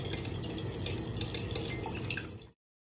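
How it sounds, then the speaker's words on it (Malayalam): Five eggs with a pinch of salt beaten briskly in a bowl for an omelette, a dense, steady clatter of utensil against the bowl for about two and a half seconds before stopping abruptly. "നന്നായിട്ട് എഗ്ഗ് ഒന്ന് അടിച്ചെടുക്കാം."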